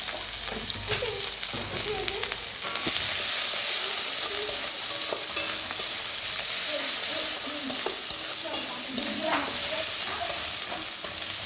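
Mustard spice paste with turmeric for hilsa fish sizzles steadily in a hot pan while a spoon stirs and scrapes it, with a continuous close frying hiss and soft scraping strokes throughout.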